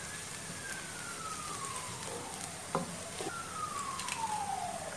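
Onions fry in a pan for street-style chana masala, giving a steady, soft sizzle while a spoon scrapes and stirs through them, with a faint siren wailing in the distance.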